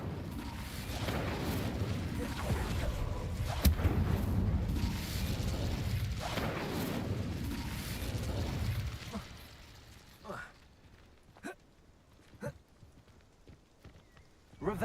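Incendio fire spell cast in the Hogwarts Legacy video game, a loud rushing burst of flame and impact noise filling the first several seconds, followed by a few shorter, quieter bursts.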